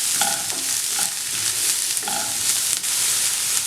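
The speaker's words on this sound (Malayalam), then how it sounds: "അതിൻ്റെ അകത്തേക്ക് പച്ചമുളക് ഇട്ട് കൊടുക്കാം, സവോള, ഇതെല്ലാം നന്നായിട്ട് വഴറ്റിയെടുക്കണം" Green chillies and onion sautéing in a pan for Kerala restaurant-style chilli fish, with a steady loud sizzle and repeated scraping stirs of the spatula, close and without talk.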